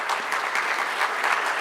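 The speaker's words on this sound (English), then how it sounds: "We can give a round of applause and appreciation to the President" Formal audience at an economic growth forum in Lusaka, Zambia, applauding the departing President with brisk, steady, fairly loud clapping throughout.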